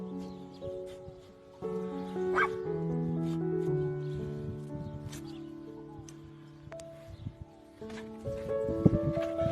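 A dog whimpers and yips in a run of high, wavering cries, close and fairly clear, with some background noise and faint voices.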